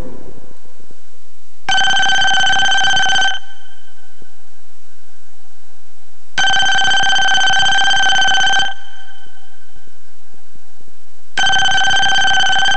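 A coin-operated telephone rings after a number is dialed: three evenly spaced bursts of electronic ringing, each about two seconds long, separated by silent pauses, loud and close with no voices.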